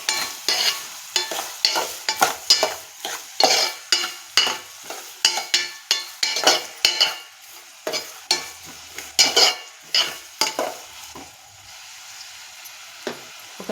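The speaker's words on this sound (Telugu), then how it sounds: "ఒకసారి బాగా కలుపుకుందాం." Salted onions stirred in a pan, a spatula scraping in quick repeated strokes over a soft sizzle, loud and close, with the strokes thinning out toward the end.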